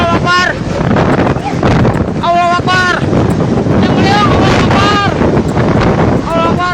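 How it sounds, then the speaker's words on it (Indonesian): Strong whirlwind gusts roaring across Jalan AH Nasution in Ujung Berung, Bandung, a loud continuous buffeting rush with wind noise on the microphone, while voices chant and shout over it. "Detik-detik angin puting beliung yang menerjang kawasan Jalan AH Nasution, Ujung Berung, Kota Bandung terekam kamera warga."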